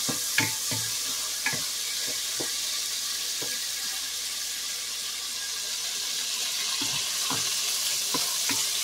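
Pork frying with turmeric in a pot while being stirred, a steady sizzle with scattered scraping and clacking stirring strokes, close and without voices.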